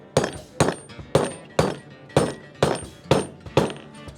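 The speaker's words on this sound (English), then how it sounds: "How gently am I hammering?" A hammer strikes steadily about eight times, each blow a sharp, close impact at an even rhythm of roughly two per second, with a short ring after each hit.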